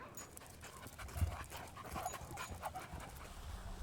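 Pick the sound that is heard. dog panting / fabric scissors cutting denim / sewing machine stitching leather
dog panting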